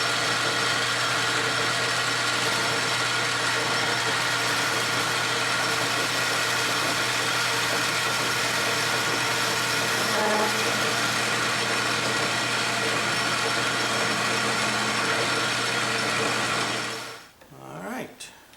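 Metal lathe cutting a chamfer with a carbide tool on a small protractor part, a steady loud machine hum with a constant tone that runs unbroken until it winds down at the end.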